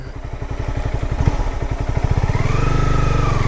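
A 2012 Honda CBR250 motorcycle on a test ride accelerates hard from the rider's position, its engine pulsing in a rapid, rising putter that builds into a loud, steady drone with rushing wind.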